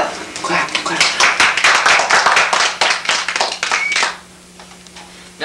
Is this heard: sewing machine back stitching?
no